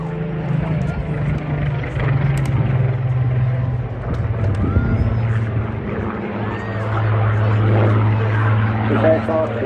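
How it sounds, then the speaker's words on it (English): Propeller drone of a Supermarine Spitfire Mark 1 flying at the Wales Air Show in Swansea, a loud steady engine note that swells slightly as it passes, heard under continuous commentary. "The aircraft, the Mark 1, barely running at half the power"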